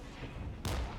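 A single loud artillery or musket blast from the RTS video game Regiments: Winds of Change bursts suddenly over a low rumbling battlefield background.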